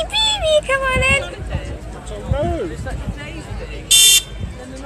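A short electronic horn on a toy vehicle blares once, loud and close, after children chatter and squeal in the background.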